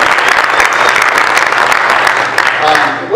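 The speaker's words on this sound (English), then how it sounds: "So let's give Joel a round of applause." An audience at a business event claps in a loud, dense round of applause that holds steady for a few seconds, with a voice faintly audible beneath it.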